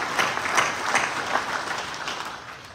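An audience at a Knights of Columbus California state meeting claps in a short burst of dense, fairly soft applause. The clapping holds steady for a few seconds with no voices over it.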